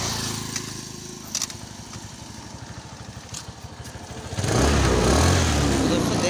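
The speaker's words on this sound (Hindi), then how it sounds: "फाइनली जो है वो स्कूटर हमारा स्टार्ट हो गया है।" A Suzuki Access 125 scooter, its carburettor just cleaned, runs with a steady low engine putter and speech over it. The engine note grows louder and rougher near the end.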